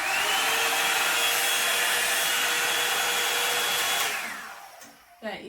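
A Revlon Salon One Step hairdryer and styler runs loud and steady with a high whining whoosh, then powers down around four seconds in, leaving faint handling noise.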